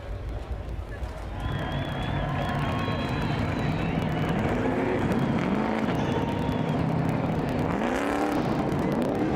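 Stadium Super Trucks race on the Long Beach street circuit, their engines droning steadily with rising and falling revs as trucks pass, while a commentator talks over the racket throughout.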